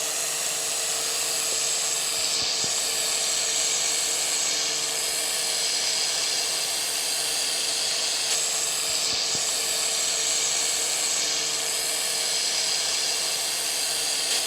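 Steady, loud hiss from laser welding on sanitary stainless steel with a widened wobble for a concave bead. It runs unbroken for the whole stretch, with faint clicks and no voices.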